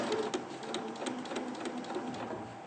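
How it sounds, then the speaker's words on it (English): A domestic sewing machine runs steadily, stitching fabric through to the end of a seam with an even, continuous mechanical whir and faint rhythmic clicks, close and moderately loud, with no talking. "reposition that fabric. Right. And sew to the end."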